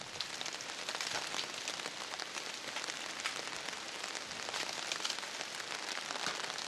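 Heavy rain pours steadily on a mountain road in Bhutan while dirt and gravel wash down a cliff, a dense, continuous hiss with scattered sharper patters that holds even throughout, with no voices.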